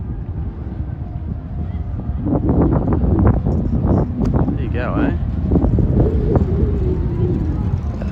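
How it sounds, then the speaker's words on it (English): Strong wind buffets the microphone with constant low rumbling gusts in Sydney, Australia, while someone speaks briefly over it. "there is a strong breeze"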